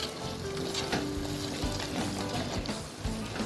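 Mango and ginger pickle cooking down in hot oil in a pan, a steady close sizzle and bubbling frying sound running throughout with no talk.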